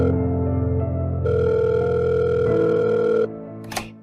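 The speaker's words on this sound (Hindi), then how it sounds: "तीन चार रिंग के बाद फोन रिसीव हुआ।" A telephone line plays a steady ringback tone that holds for several seconds, then cuts off, followed by a brief click.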